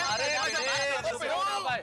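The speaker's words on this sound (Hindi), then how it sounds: "और बैंक से कुलकर्णी का फोन है" A telephone rings in a Hindi sitcom scene, with a warbling electronic ring tone repeating steadily and staying loud as voices talk over it.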